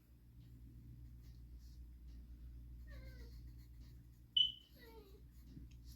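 A house cat meowing nearby in a quiet room, a couple of short rising-and-falling calls followed by a sharper, louder cry, over a low steady hum.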